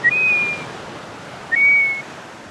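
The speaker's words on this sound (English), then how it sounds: "Golden plover" Two clear, plaintive whistles from a golden plover at Kennack Cove, Cornwall, each a single drawn-out note about a second apart, over faint background wind.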